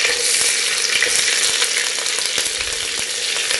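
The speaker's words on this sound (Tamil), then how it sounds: "கொஞ்சம் எண்ணெயும் வெண்ணெயும் சேர்த்துருக்கேங்க. வெங்காயத்தை போட்டு தாளிச்சிடலாம்" Onions fry in oil and butter for mutton mandi, a loud, dense, steady sizzle with faint stirring taps, close and continuous with no talking.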